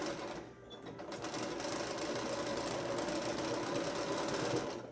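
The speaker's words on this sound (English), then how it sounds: "I'm gonna just top stitch right here" A sewing machine top stitches along the folded edge of a fully lined fabric apron, running as a steady, fast, even mechanical whir close by for the whole stretch with no talking.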